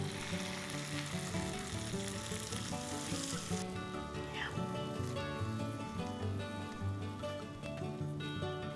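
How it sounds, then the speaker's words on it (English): Garlic and pesto sizzle in olive oil in a pan, a quiet, even frying hiss running beneath soft tonal background music. "Use a tablespoon of olive oil, add a teaspoon of garlic."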